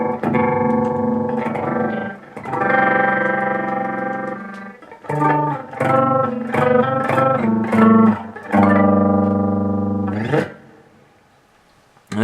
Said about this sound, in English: It sounds like a ring modulator when you have the speed at like 3.